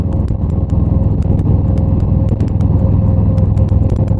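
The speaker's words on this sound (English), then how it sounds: "A lot of traffic I'm in right now" Road traffic rumbles loud and steady from the saddle of a Harley-Davidson Road Glide, a continuous low engine drone with faint intermittent clicks over it.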